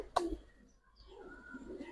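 Racer and Giribaz pigeons coo softly at a market stall, one brief throaty coo near the start followed by faint, low murmuring amid quiet background noise.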